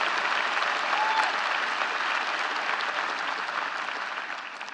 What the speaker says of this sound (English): Let's applaud their academic achievement of our student athletes.